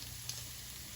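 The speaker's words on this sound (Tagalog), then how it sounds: "Dito natin i-brown yung garlic sa center." Garlic browning in the center of a pan of cooking oil for Bicol Express makes a quiet, steady sizzle close by, faint and even, with no talking.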